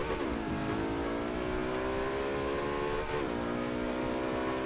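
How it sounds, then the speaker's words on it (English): A McLaren sports car sweeps past in rainy Forza Horizon 2 racing, its engine a steady loud drone with rising and falling harmonic tones, a brief shift near the three-second mark, and hiss of wet spray throughout. "McLaren come flying past us."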